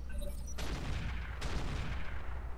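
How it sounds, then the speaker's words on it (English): Turret artillery in the Roguetech game fires two heavy booming blasts about a second apart. Each is followed by a rumbling, crackling tail, loud and fairly close. "it's the turret artillery that's killing us"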